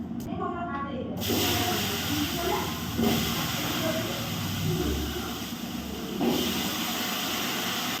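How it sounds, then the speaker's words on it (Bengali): Potatoes fry in hot oil after cumin seeds are tempered and green chillies are added, giving a steady, close broadband hiss that fills the clip with faint clatter and stirring under it. "এদিকে আলুগুলো একটু ভাজা হতে থাকি"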